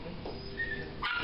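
A puppy in a puppy shop gives soft whimpers and a brief high yip amid a busy, murmuring background with faint voices.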